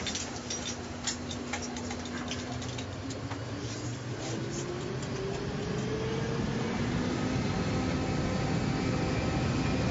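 A passenger airliner takes off, its engine roar a dense, steady wash heard from inside the cabin that slowly swells in loudness over the whole stretch, with faint rattles early on and no voices.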